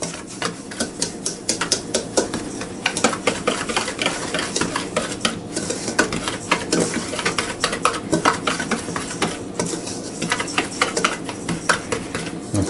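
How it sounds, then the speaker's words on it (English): A whisk beating ingredients in a mixing bowl, rapid irregular clicking and tapping against the bowl throughout, close and continuous with no talking. "now we're going to whisk all this together at a very weird angle once again."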